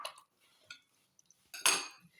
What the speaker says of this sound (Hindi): चिकन को अंदर डालेंगे मसालों के, और अच्छी तरह से मिक्स कर देंगे।